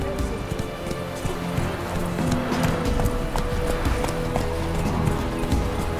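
A horse gallops in The Witcher 3: Wild Hunt, steady rapid hoofbeats drumming close and loud over a thick ambient game soundscape, with brief talk mixed in.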